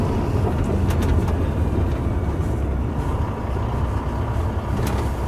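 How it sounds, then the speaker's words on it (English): A 2009 Volvo 630 truck with a D16 engine, I-Shift transmission and APU cruises on the highway, its engine and road noise forming a loud, steady low rumble heard from inside the cab, with no talking. "Taking the truck out on the highway, it drives really nice on the highway."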